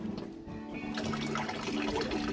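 Cold water running from a press-button public drinking water fountain in Marburg, a steady splashing gush that starts after a short pause and keeps flowing, close and fairly loud with no talking.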